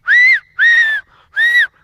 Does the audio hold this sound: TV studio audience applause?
no